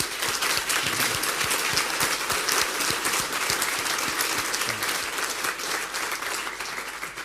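A conference audience at DrupalCon Munich 2012 breaks into steady, dense applause, many hands clapping at close range for several seconds before the clapping begins to thin out.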